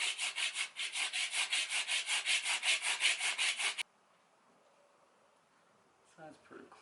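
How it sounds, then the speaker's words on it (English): A knife shaves an oak axe handle in rhythmic back-and-forth strokes, about a dozen rasping scrapes over four seconds, close and fairly loud, then near silence with a few faint handling noises. "just go down there and shave those off very, very carefully"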